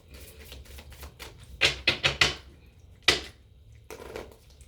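Oracle cards being shuffled during a collective tarot-style reading, a quiet run of soft papery riffles with a burst of four sharp snaps, then single crisp slaps, close and alone.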